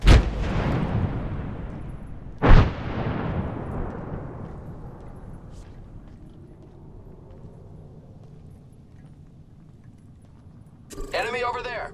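A frag grenade goes off in Apex Legends, a sharp blast with a long decaying rumble, followed a few seconds later by a second burst and then a spoken voice line.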